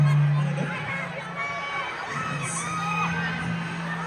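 A crowd at a P-pop fan gathering in a shopping mall cheers and shouts in a steady, loud, echoing roar, with a low hum running underneath.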